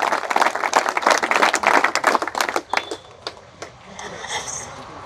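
A political rally crowd claps and applauds for a former minister speaking about farmers' compensation, a dense burst of hand claps that thins out into scattered claps and fades.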